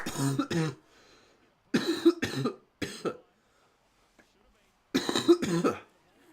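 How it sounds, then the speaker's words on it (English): Several harsh, loud coughs come in separate bursts with short quiet gaps between them, close to the listener. "I had a bit of a coughing attack there"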